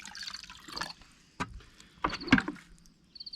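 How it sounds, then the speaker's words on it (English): Water splashes and sloshes as a rock tumbler drum is rinsed out, with irregular close knocks, gurgles and drips in otherwise quiet surroundings. "Now we rinse out our drum."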